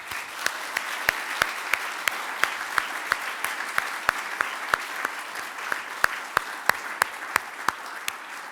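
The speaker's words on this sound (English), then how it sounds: "I'd like to just give all the winners another round of applause." An audience at the 2021 Service to the Citizen Awards ceremony applauds its award winners with steady, full clapping and sharp individual claps standing out throughout.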